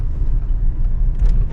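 A 1983 Ford Falcon XE engine idles low and smooth while the car putters along cold, a steady close rumble filling the cabin without a break.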